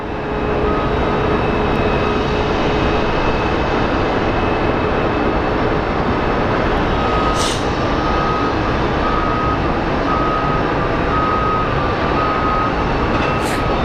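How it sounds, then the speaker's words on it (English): A Southwest Airlines jet arriving from Baltimore on final approach to Sky Harbor International Airport in Phoenix makes a continuous, broad roar that holds steady and loud throughout, with a few faint tones layered over it. "our Southwest 2481 coming in from Baltimore is on final"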